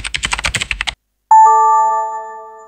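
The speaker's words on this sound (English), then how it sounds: "You can also generate custom sound effects like typing keyboard or mobile notification" Rapid clicking keystrokes tap out a quick burst of typing, followed by a pause and a single bright chime ringing out and slowly fading.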